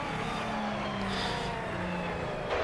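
Formula 1 race cars, including an Alfa Romeo closing on a McLaren at the Austrian Grand Prix, give a continuous engine drone with a high whine and gear shifts. The sound is loud and steady, with no talk over it.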